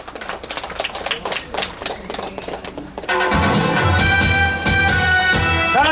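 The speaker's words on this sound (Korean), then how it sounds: "큰 박수로 노래를 시작하겠습니다." A crowd at an open-air sing-along class on a street in Guui-dong claps in a steady rhythm for about three seconds. Then a loud band backing track kicks in for a cover of a song, and the clapping carries on beneath it.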